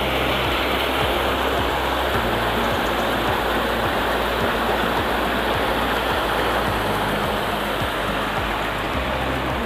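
River flowing beside the Galunggung hot spring pool, a dense, steady rushing of water that holds constant for the whole stretch, close and loud, with no talking.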